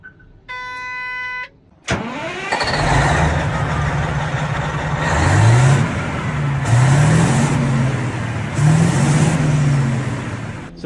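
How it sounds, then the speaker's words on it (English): A CAT 3412 DI twin turbo diesel engine from a CAT 992D loader runs in a shop, starting with a sharp crank after a short warning beep, then settling into a loud, deep rumble with repeated rising turbo whistles as it's revved. "So this is a 3412 DI twin turbo engine."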